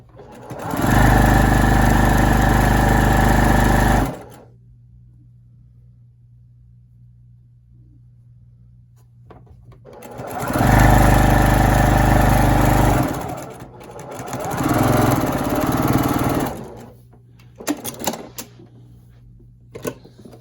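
A sewing machine stitches a seam on a breast cancer quilt in loud, steady whirring runs of a few seconds each, separated by quiet pauses, then finishes with a few short, uneven bursts.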